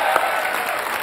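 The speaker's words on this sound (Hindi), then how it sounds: "जोरदार तालियां इसके लिए" Loud, dense applause from a television comedy show studio audience, steady throughout with one sharper clap burst near the start.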